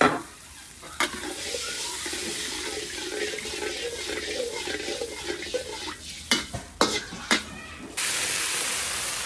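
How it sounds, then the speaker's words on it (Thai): Thai fish sauce, sugar and oyster sauce bubbling and sizzling in a frying pan for stir-fried snakehead fish with celery, a steady close hiss with occasional sharp clatters of the spatula near the end, no talk. "น้ำซอสเดือดแล้วก็จะใส่ ปลา"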